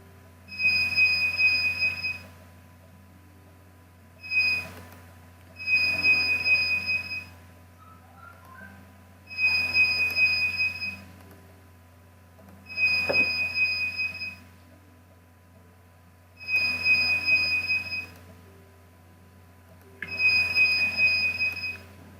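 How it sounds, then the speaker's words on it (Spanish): An electronic beeper from a UPS sounds in long, evenly spaced bursts of high steady tones, repeating about every three seconds in a quiet classroom. "Suena como un pito"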